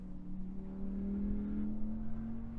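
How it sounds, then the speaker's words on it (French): Audi R8 cars circling a race circuit some way off, a steady engine drone with a slowly rising pitch, fairly faint and continuous throughout, no talking. "le bruit des R8 sur le circuit."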